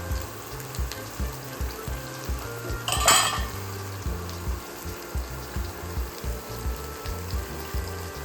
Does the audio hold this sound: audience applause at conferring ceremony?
no